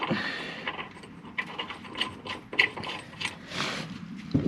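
Ratchet wrench clicking in quick, uneven strokes while loosening a bolt under a John Deere 350C dozer during blade pivot pin work, close and fairly quiet, with no talking.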